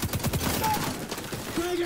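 Quick succession of pistol shots in a shooter video game, several close, punchy cracks fired at an irregular rhythm, with brief tonal game sounds toward the end.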